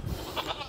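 Goats on a farm give a short, close bleat, a brief wavering cry heard alone over a busy background.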